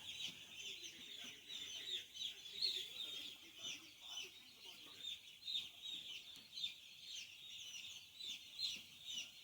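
Newly arrived poultry chicks in a farm shed, on their first day, keep up a dense, steady chorus of high cheeping from many birds at close range, with faint low murmurs beneath.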